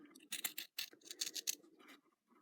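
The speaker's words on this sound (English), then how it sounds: "These are my Karen K. Buckley scissors." Serrated, very sharp Karen K. Buckley scissors snip through Tilda fabric in quick close crisp cuts, several rapid crunching strokes in a row, then softer trailing snips.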